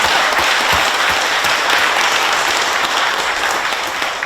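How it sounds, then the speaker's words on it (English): Loud, sustained crowd applause fills a large opening-ceremony gathering, a thick continuous roar of clapping with no breaks. "give them a round of applause"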